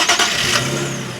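A 2012 Infiniti G37 sedan with a six-speed manual cranks and fires up close by, a brief starter whir catching into a steady idle hum that settles over about a second.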